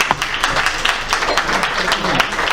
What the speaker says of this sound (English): So please give one more round of applause to our...